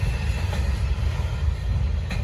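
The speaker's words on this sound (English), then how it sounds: "We got another train coming." A freight train rolls past on the railroad, a steady low rumble of wheels and cars with faint clatter, loud and continuous without a break.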